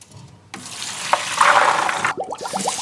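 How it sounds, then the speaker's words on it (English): Soaked beans and their soaking water dumped into a colander, a loud gushing pour that rushes for over a second, then trails off into a few splashy drips and trickles, with no talking. "So what I'm going to do is drain these beans. I have my colander right here"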